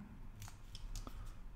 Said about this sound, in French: ce petit papier-là qu'on va couper proprement